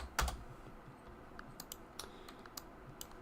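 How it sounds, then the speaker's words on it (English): Keys tapped on a computer keyboard while working in Blender, a short run of crisp, quiet clicks starting with a sharper double strike, then lighter irregular keystrokes. "we can type in black"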